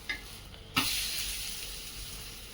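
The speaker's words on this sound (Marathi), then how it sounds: "तो आता तव्यावर टाकून घेऊ. तेल टाकून घेतलं आहे." Spinach paratha laid on an oiled griddle, giving a sudden sizzle that settles into a steady frying hiss, close and continuous, with no talking.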